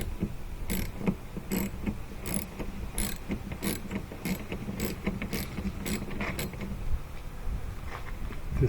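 A wrench ratchets a 13 mm nut loose on a GMC Yukon rear window wiper, giving a steady run of close, rapid clicking pawl strokes with no talk.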